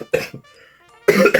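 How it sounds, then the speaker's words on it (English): A single short cough, followed by a faint hum and then a voice starting up. "I burped and coughed."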